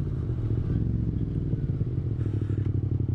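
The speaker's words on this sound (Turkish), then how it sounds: "Tapasını çıkardık egzozun." A Yamaha MT-07 motorcycle engine runs with its exhaust plug removed, giving a loud, steady, throaty rumble that carries on without a break and holds up close throughout.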